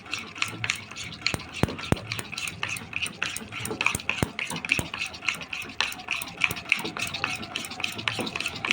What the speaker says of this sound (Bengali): আমি ওই কারণে ভালো করে ফাটিয়ে নিচ্ছি ডিমটাকে আর চিনিটা আর তেলটাকে